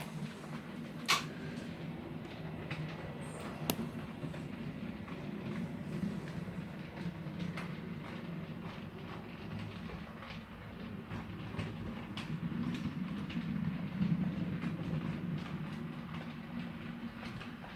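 A model railway train runs along the nearest section of a layout's track, giving a steady low rumbling drone with faint clicks and a couple of sharp knocks, close and continuous with no talking.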